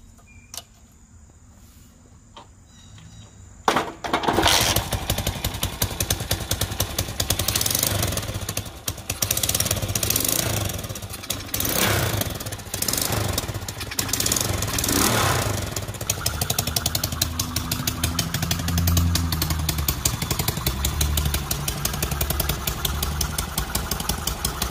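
A 1969 Honda CT90 motorcycle fitted with a Piranha 140cc engine and its original CT90 exhaust starts after a few quiet seconds, then runs steadily and fairly quietly with a close, continuous putter and slight revving.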